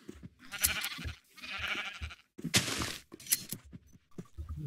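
Sheep in the video game Minecraft bleat in a series of loud, close, wavering calls, several overlapping bleats with short gaps between them and no talking.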